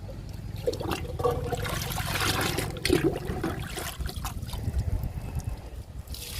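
Liquid kitchen-waste fertiliser pours and splashes onto potted plants and soil, a close, continuous gurgling stream with dribbles and surges, no talking.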